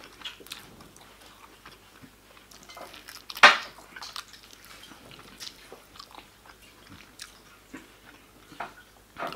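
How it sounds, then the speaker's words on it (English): People eating barbecue meat and ribs, with soft close chewing and biting, cutlery and dishes clinking, and one sharp clatter partway through; the scene is otherwise quiet with little talk. "Everyone's eating."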